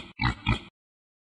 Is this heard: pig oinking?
yes